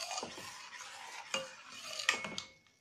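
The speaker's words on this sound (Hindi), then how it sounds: "हम इसको चलाते हुए लगातार कुक करेंगे जिससे ये नीचे जले ना।" A pot of almond firni is stirred continuously, with soft scraping and a few clinks of a spoon against the pot. The sounds are quiet and close.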